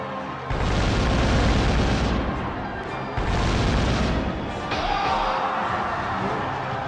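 Rifle volleys from massed riflemen in the Kessen battle video game, heavy booming bursts that roll out in three waves, loud and close, with a battle din between them.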